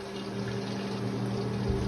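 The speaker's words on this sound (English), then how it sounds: "I'm just gonna pour it into a can" Rendered chicken fat poured from a pan into a can, a steady low liquid trickle with faint hum, continuous and close for about two seconds.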